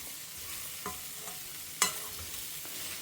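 Okra sautés in a pan with a steady, soft sizzle, broken by occasional spoon scrapes and one sharper clink against the pan.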